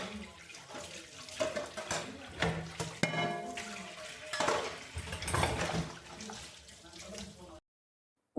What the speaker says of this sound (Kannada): ಸ್ವಲ್ಪ ಪಾತ್ರೆ ಕೂಡ ಇತ್ತು, ಅದೆಲ್ಲ ಇವಾಗಲೇ ವಾಶ್ ಮಾಡಿ ಇಟ್ಕೊಂಡ್ಬಿಟ್ರೆ ಬೆಳಗ್ಗೆ ತುಂಬಾ ಈಸಿ ಅಂತ ಅನಿಸುತ್ತೆ